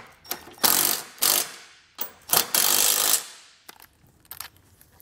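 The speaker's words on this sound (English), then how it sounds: "then we're gonna snug up all these here on the face of our hitch." A ratchet snugs bolts on the face of a Curt trailer hitch receiver, making close, crisp bursts of rapid clicking in short strokes with pauses between them.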